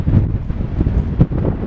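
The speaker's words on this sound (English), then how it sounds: "that wind, that's not a warm wind" Cold wind gusts buffet the microphone on a seaside promenade, a loud continuous low rumble with irregular swells and no voices.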